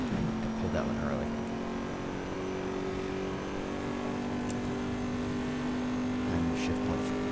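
Race car engine in the Assetto Corsa racing game, a steady sustained drone with harmonic tones holding near-constant pitch, running loud and continuous under a man's speech.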